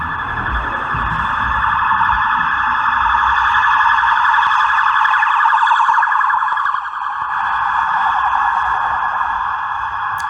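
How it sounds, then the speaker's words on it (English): An emergency vehicle siren wails on a New York City street, loud and close, its steady cycling tone holding for about ten seconds over faint traffic rumble. "Siren of some sort."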